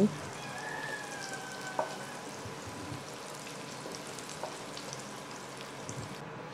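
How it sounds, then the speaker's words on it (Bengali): Bitter gourd fries in hot oil with a soft, continuous sizzle, a few sharp crackles and light clatter of a utensil close by. "উচ্ছেটা আমার ভাজা হয়ে গেছে এখন আমি উচ্ছেগুলো তুলে রাখছি"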